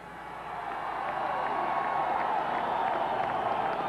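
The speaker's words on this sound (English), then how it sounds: "Let them all be introduced and then give them the round of applause." A large outdoor crowd at Los Angeles City Hall applauds and cheers for the 1985 Lakers championship players, a broad, steady wash of clapping that swells within the first second and holds at a distance.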